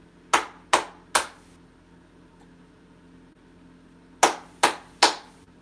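Three sharp hand claps in quick succession to trigger a clapper switch for a fan, then a pause, then another set of three claps, loud and close in a quiet room.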